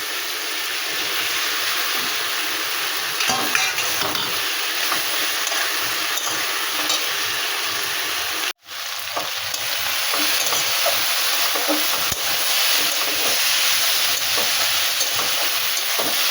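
Okra with prawns fries in a pan with coriander, cumin and ginger, a loud continuous sizzle with stirring scrapes, briefly cutting out midway before resuming just as strong.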